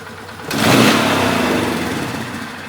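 A Polaris Sportsman 500 ATV engine with a modified air intake is throttled up from idle, the revs jumping sharply and then slowly sagging back down, loud and close.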